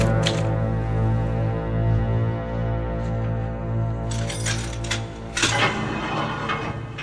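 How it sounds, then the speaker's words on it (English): Typewriter keys clatter in a radio mystery drama, arriving as a few quick mechanical bursts in the second half over a steady, droning musical backdrop. "let me use your typewriter."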